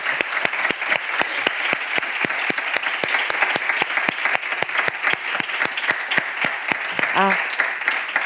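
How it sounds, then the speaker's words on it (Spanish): A festival audience applauds two speakers after a talk, with steady dense clapping from many hands filling the room, close and sustained, and a brief voice near the end. "yo creo que les damos un fuerte aplauso"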